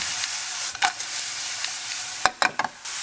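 Butter melting with mushrooms in a hot pan gives a steady bright sizzle, broken by a few sharp scrapes and clicks of stirring near the end.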